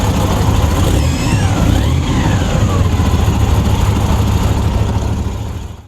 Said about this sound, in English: So as you can see, it actually does run. It sounds beautiful. 2 V8s.